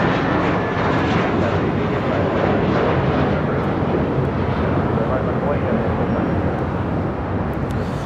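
A Boeing 777-300ER heavy jet arriving at LAX makes a loud, steady broadband engine roar that holds without letup, mixed with wind noise and a voice talking over it.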